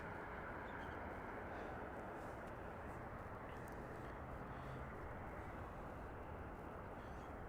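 Air Canada flight ACA 1059 at Las Vegas airport gives off a constant, faint, distant jet roar that holds evenly throughout.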